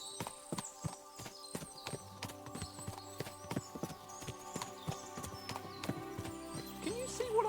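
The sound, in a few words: horses' hooves clip-clopping, from video game Kingdom Come Deliverance 2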